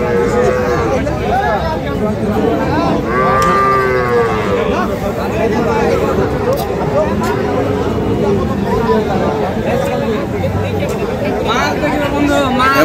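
Cattle moo repeatedly at a busy village livestock market where dairy cows and calves are sold, loud nearby lowing over a constant crowd babble and chatter.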